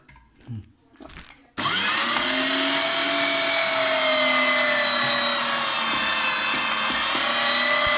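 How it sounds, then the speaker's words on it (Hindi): A mixer grinder whirs into a loud, steady blend of coriander, mint leaves, green chili, garlic and ginger for a kebab mince. It kicks in abruptly after a moment of quiet rustling, then holds a constant high whine to the end. "धनिया, हरी मिर्च, लहसुन, अदरक, ये सब कुछ इसमें साथ ही ग्राइंड हो जाएगा।"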